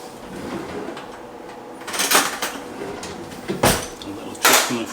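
A spoon clinks among dishes and cutlery in a kitchen while Nutella crepes are being made, with a few sharp metallic clatters close by.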